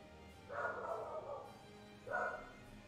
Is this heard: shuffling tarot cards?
no